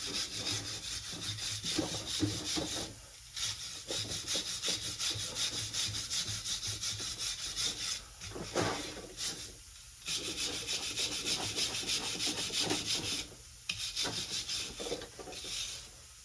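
Repeated scraping and rubbing strokes cleaning a corroded Jeep Wrangler clutch shaft, rhythmic bursts separated by brief pauses, close and fairly quiet with no talking.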